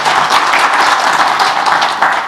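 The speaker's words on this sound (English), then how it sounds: "Let's clap for Chief Principal" Applause for a chief principal at a technology and innovation conference: a steady, dense wash of many hands clapping throughout, loud and continuous with no break.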